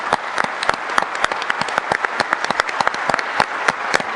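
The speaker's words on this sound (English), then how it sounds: "let's give them a round of applause for basically doing it" Steady audience applause at a Dell Enterprise Forum technology conference, dense overlapping claps filling a large hall, continuous and fairly loud with no one talking.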